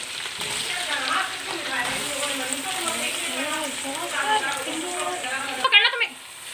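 Chicken with green chilies fries in a pan, giving a steady close sizzle with occasional stirring scrapes, while a person talks over it throughout.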